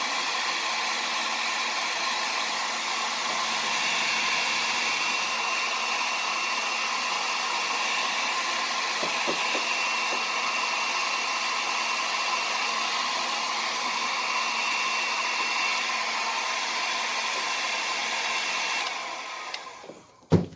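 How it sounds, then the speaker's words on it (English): Hair dryer blowing steadily close by as it dries paint on a canvas, a constant whooshing hum that holds evenly for about twenty seconds before switching off with a click at the end. "you want to move your blow dryer around just a little bit so it doesn't get too hot in any spot"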